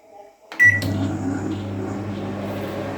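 A microwave oven heating bread starts with a click and beep, then hums steadily and loudly with a low drone while it runs.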